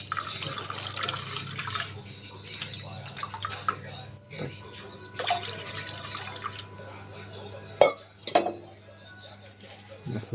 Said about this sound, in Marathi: त्याच्यामध्ये पाणी घालू आपण